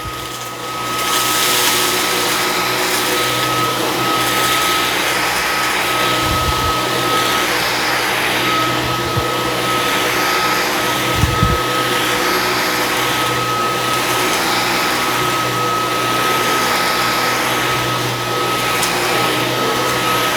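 A Dyson V15s Detect Submarine cordless vacuum runs steadily on carpet, giving a loud, constant motor whine and airflow rush for the whole stretch, with only small bumps in tone and no one talking.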